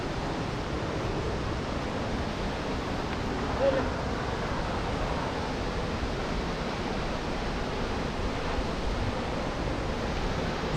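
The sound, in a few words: waterfall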